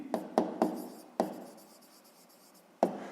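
Pen writing on paper during a sixth-grade maths exercise, five quick scratchy strokes in an irregular rhythm, close and quiet, with no voice.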